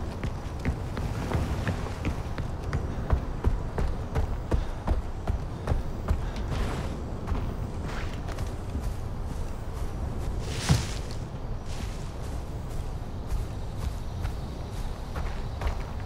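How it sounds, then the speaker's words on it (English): Footsteps in Far Cry 4 on a foggy outdoor stretch, a steady run of soft, close steps pattering along for the whole stretch over a low ambient rumble, with one brief sharper swell midway. "I keep hearing footsteps out here."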